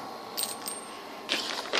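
Gold coins collected in a video game give off a few bright, metallic chimes in two short bursts, fairly close and alone with no talking.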